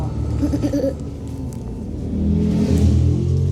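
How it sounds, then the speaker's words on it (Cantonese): A loud motorcycle engine revs on a road nearby, a heavy rumbling roar that swells louder in the second half, with no talk. "嗰部電單車真係嘈死人。"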